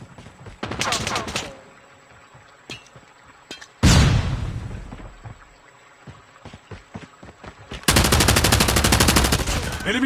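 Gunfire in a COD Mobile gunfight round: bursts of rapid automatic fire near the start and again at the end, a heavy blast near the middle, with scattered single shots in between.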